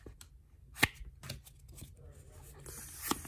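A Pokémon Vivid Voltage Zarude booster pack is torn open and its cards handled, making faint, close crinkling foil and paper rustles with a few sharp snaps and flicks.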